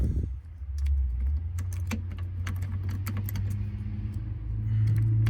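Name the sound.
new keys jangling in Dodge Power Ram ignition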